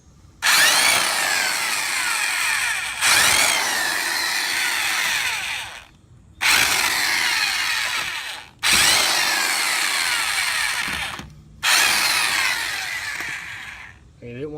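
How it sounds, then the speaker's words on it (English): An impact wrench removes lug nuts from a 2010 Ford Edge during a rear brake job, sounding as four long, loud buzzing hammer bursts, each a couple of seconds or more, separated by brief gaps, close up with no talking. "But I have an impact wrench, so I can go on and lift it off the ground to get this tire off."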